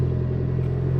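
Ford Mustang EcoBoost engine idling after a restart with the check engine light on, a steady close low rumble with a constant hum, no voices.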